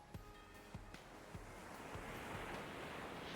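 Sea waves wash onto a beach in the video game Boyfriend Dungeon, a steady soft surf rising in wind-like noise after a few faint taps, quiet and with no voices.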